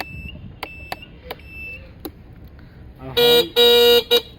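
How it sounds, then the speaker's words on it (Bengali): A new 2025 Shadow Tiger motorcycle honks its horn three times: a loud, bright buzzing tone in two longer blasts and one short one, preceded by several soft electronic indicator beeps and clicks. "হর্ন কোয়ালিটি অনেক সুন্দর এবং চমৎকার"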